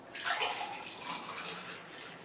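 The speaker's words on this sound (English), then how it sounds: "I'm going to have to go ahead and get out the glasses, and we're going to pour our juices out" Fresh carrot juice from an Omega VSJ843 juicer pours into glasses, a close, steady liquid stream that splashes and gurgles for a couple of seconds with no talking.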